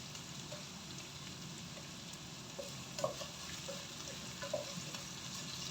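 Potato and green peas curry ingredients being sautéed in a pan, a soft continuous sizzle with occasional light scraping knocks of a spoon, fairly quiet and close, no talking.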